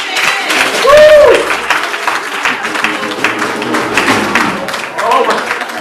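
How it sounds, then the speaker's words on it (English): A church congregation claps hands for the Lord, a steady, dense wash of clapping with whoops and shouts mixed in and a preacher's voice calling over it. "Somebody ought to clap your hands for the Lord."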